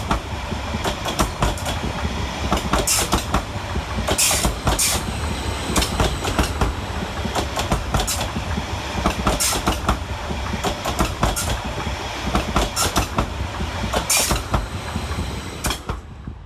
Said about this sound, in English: Next to pass through the station is 745107, working 1 Bravo 16 from London Liverpool Street to Stansted Airport.